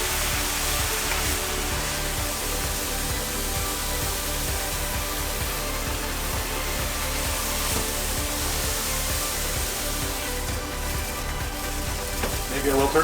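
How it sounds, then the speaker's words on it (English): A pot boiling over on a stove while cooking a wiener casserole, a steady loud hiss and sizzle of liquid spilling onto the hot surface that continues unbroken throughout. "We have boil over."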